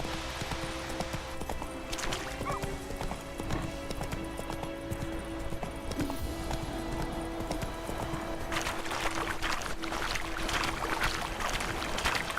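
The horse Roach trots in the Witcher 3 video game, its hooves clip-clopping in a steady rhythm throughout, close and clear, with a brief snort or whinny and faint game ambience behind.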